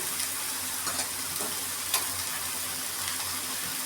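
Chicken pieces frying in a pan give a steady, soft sizzle with a few faint clinks, close by and continuous with no talk.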